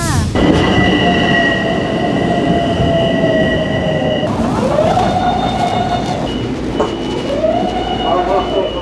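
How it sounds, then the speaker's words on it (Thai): Loud, steady rumble inside a moving New York train, with electric motor whines that slide down and then rise again over continuous rolling noise and no clear talk. "นี้เราก็อยู่กันในรถไฟแล้วนะคะทุกคน"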